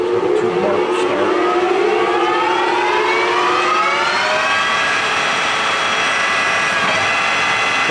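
A Kingston HD-2690 26-inch by 90-inch gap-bed metal lathe spins up to 800 RPM, giving a loud, steady mechanical whine that climbs in pitch over the first few seconds and then holds as a sustained, even drone.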